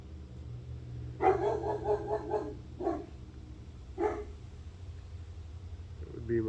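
A dog barks in a quick run of about six sharp barks, then two more single barks spaced apart, fairly close against a low steady background hum.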